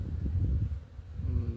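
Native Korean honeybees hum around their hives in December, a low droning buzz with slight wind rustle. The sound is close and continuous, with a brief dip midway and a faint rising whine near the end.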